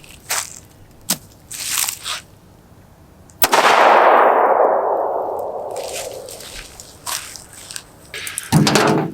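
A Glock 33 Gen 4 pistol fires one sharp, loud shot at a range, its report ringing out and slowly decaying, with scattered clicks and handling noises before and after.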